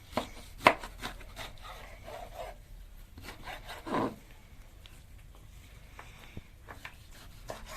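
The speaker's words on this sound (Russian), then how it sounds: "берем сердце, разрезаем сначала напополам, затем на такие кусочки" A knife cuts a beef heart into pieces on a board up close, with a few sharp taps and soft scraping strokes in an otherwise quiet room.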